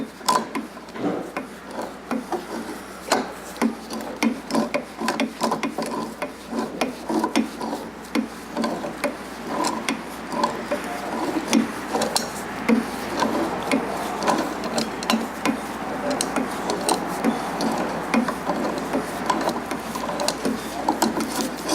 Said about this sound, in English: You can hear how tight it is. Each one, it makes a little creaking noise.